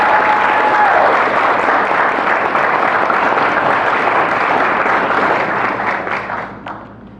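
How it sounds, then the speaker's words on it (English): A crowd gives steady, full applause to a college men's soccer championship team at a celebration. The clapping holds strong for several seconds, then thins and fades out near the end. "let's give these young men a round of applause"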